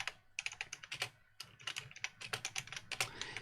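Rapid keyboard typing with irregular clustered clicks, close and clear, a brief pause near the middle, no voices.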